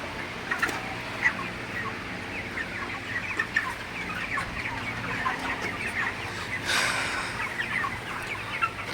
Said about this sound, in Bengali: সকালে মুরগিগুলোকে পানি দিলাম পানি খাইতেছে সব